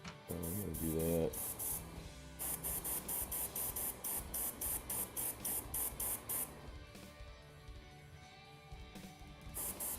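An airbrush sprays cleaner through in a long run of short, even hissing pulses, loud and close, after a brief tonal sound at the start.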